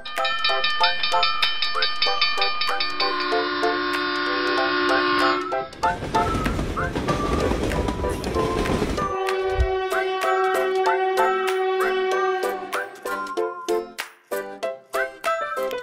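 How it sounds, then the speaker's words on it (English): A train horn sounds in long, sustained chord-like blasts, then gives way to a burst of rushing rumble before the horn returns with shorter toots that trail off. "Train."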